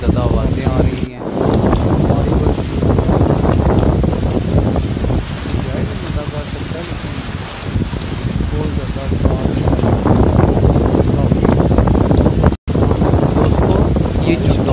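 Heavy rain and strong gusts batter the docks, a dense continuous roar of wind buffeting the microphone with a brief dropout near the end; a voice talks through much of it.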